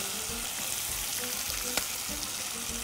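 Chicken hearts, liver and onion fry in a pan with a steady, close sizzle and a few soft stirring clicks, no voices.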